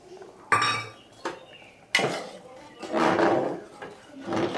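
A spoon scrapes and clanks against a pot as kheer payesh rice pudding is stirred, with sharp metallic knocks and rasping sweeps recurring irregularly, close and fairly loud, with no talking.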